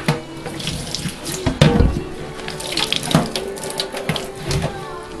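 Tap water runs steadily into a sink or tub while a Maine Coon cat is bathed and shampooed, close and continuous, with splashes and knocks from handling.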